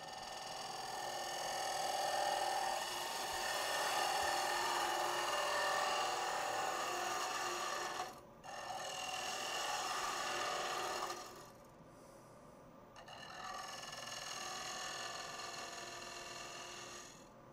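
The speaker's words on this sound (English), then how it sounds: "I think I can still hollow this out a little bit more and leave that bead proud." Wood lathe hollowing a segmented wooden box, a steady rough cutting and scraping hiss that runs on with two brief pauses, the second gap longer and followed by slightly quieter cutting.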